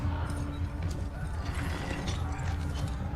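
Slow mechanical clicks and ratcheting of a weapon being reloaded in the film Prey, several soft metallic clacks over a steady low rumble of background score, moderately quiet.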